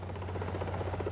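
Helicopter of the Queen's Flight arriving with the Duke and Duchess of York, a steady loud rotor drone and engine hum throughout, with no talk over it.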